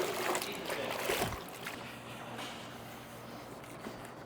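A microfiber car-wash towel is wrung out during a wash of a paint-protection-filmed, ceramic-coated C8 Z06, giving a wet splattering burst of water in the first second and a half, then a softer trickle and drip.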